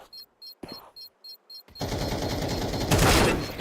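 Gunfire in an esports shooter video game, first a run of evenly spaced electronic beeps, then a sudden dense burst of rapid shots and explosions that stays loud to the end, with no talk over it.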